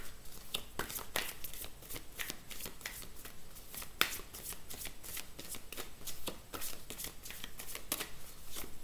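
Tarot cards shuffled by hand for a love-guidance card reading, a steady run of crisp riffling flicks and soft slaps repeating close up for the whole stretch, with no talking over them.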